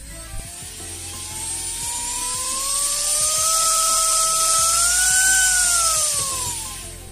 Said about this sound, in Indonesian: Kalau menggunakan dimmer ini, jadi putaran dinamonya bisa kita atur sesuai keinginan kita teman-teman.